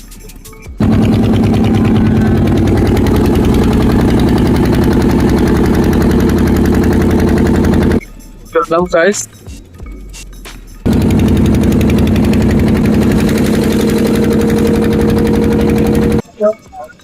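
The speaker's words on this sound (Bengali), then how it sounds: "Engine start." A boat engine crossing the Ganga runs loud and close with a steady mechanical drone. It cuts out briefly while someone speaks, then resumes.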